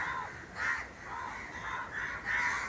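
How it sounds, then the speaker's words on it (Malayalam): Several crows caw while flying around, the faint, somewhat distant calls repeating in an uneven series of four or five caws with no talking. "ആ കാക്കകള് ഒരു കാറ്റ് ഇങ്ങനെ അടിച്ചപ്പോൾ കാക്കകൾ തന്നെ ഇങ്ങനെയും പറന്നു പോകാം"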